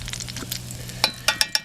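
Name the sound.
eggs frying in sausage grease in a hot pan while camping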